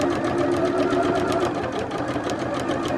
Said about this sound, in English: I'm just going to stitch all the way down